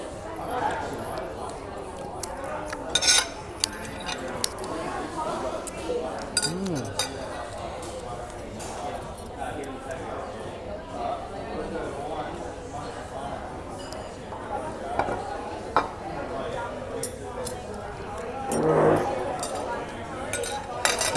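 Cutlery clinks and scrapes against a plate as the last of the sauce is wiped up in a busy eatery, sharp scattered taps over a steady bed of restaurant chatter and background voices.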